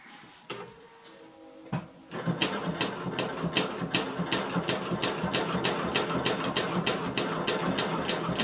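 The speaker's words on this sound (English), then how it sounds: "So I'm going to start by once again setting my machine to free motion quilt around these." A sewing machine doing free motion quilting starts after a few quiet clicks and handling sounds, then runs in a steady rhythmic series of sharp needle strokes, close and moderately loud.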